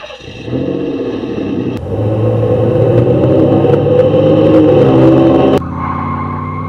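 A Pontiac Fiero's engine drones loudly on a circuit, rising in pitch as it accelerates through the gears with a steady revving tone, then dropping abruptly to a lower hum near the end.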